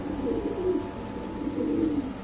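Hammer pigeons at a pigeon market cooing softly in low rolling phrases, two brief bursts close by over a quiet background.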